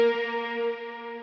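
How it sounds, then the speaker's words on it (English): An electric guitar runs through an octave-up pedal set to full dry plus 100% octave, giving one steady, ringing sustained note that holds evenly and fades slowly. "I just kicked on my pedal to add that octave up sound."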